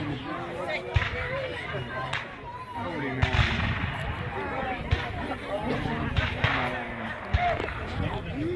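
Artillery fire booms at a Civil War battle reenactment at Narcoossee Mill, with irregular thumps and cracks rising over crowd chatter while someone narrates.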